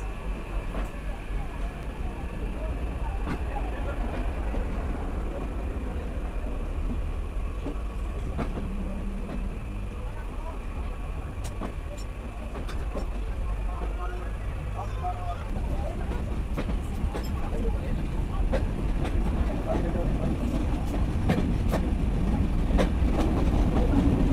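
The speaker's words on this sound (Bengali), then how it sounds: "আমাদেরকে বসিয়ে রেখে চলে যাচ্ছে রাজশাহীগামী সাগরদাড়ি এক্সপ্রেস" The Rajshahi-bound Sagardari Express pulls away from a station, a steady rumbling roll with clicking wheels that grows louder toward the end, with people talking nearby.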